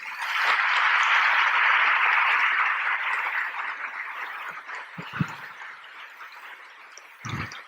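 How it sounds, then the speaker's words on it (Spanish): Applause for the Virgin of Guadalupe during a Catholic sermon, a sustained burst of clapping that swells for a few seconds, then thins out and fades, followed by a few faint knocks. "Un aplauso a la Virgen de Guadalupe."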